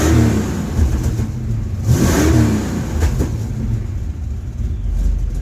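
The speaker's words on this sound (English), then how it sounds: "This thing's popping through the mufflers," A Ford Mustang engine revs and rumbles with irregular pops and crackles from the exhaust through the mufflers, a new fault, loud and close, rising and falling over several seconds.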